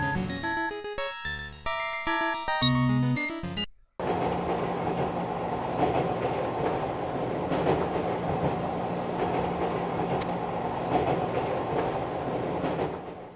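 Steady rumbling rattle of a moving train car in the horror video game Nanashi no Game, continuous and fairly loud after a brief burst of tonal game music at the start.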